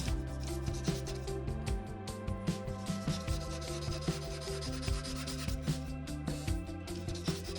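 Soft colored chalk rubbed across paper while drawing planets, a steady dry scratchy friction with short repeated strokes, close and fairly even in level, with no talking.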